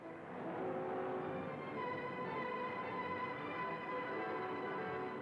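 Several 1962 NASCAR Grand National stock cars, Mercury, Chrysler and Dodge among them, roar out of the fourth turn at the Daytona 500. Their engines blend into a loud, steady wash of noise from start to finish, with no talk.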